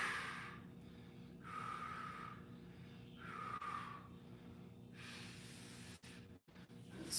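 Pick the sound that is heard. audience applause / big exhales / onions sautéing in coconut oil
big exhales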